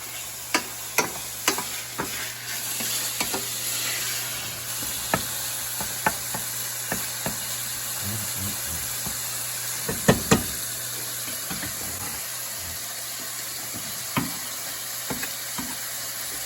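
Bacon and onions fry in a pan with a steady loud sizzle, broken by sharp knocks and scrapes of a utensil stirring against the pan.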